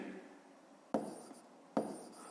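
Faint scratching of a pen on paper while working a school math exercise, quiet and close, broken by two sharper taps or strokes.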